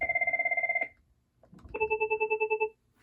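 Cisco CP-8865 white VoIP IP phone plays two ringtones in turn: a steady warbling electronic trill that cuts off, then after a short pause a higher, brighter pulsing chirp. Both are loud and close, with no talk.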